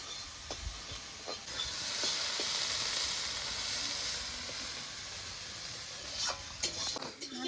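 Prawns fry in oil in a pan with a steady, dense hiss of sizzling, close up, with a few light clicks and stirring knocks near the end.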